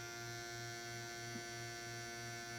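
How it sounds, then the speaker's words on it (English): A tattoo machine's needle motor runs as a continuous electric buzz with a steady mains-like hum and a faint regular pulsing, alone with no talk. "as I go in, you can hear the needle change"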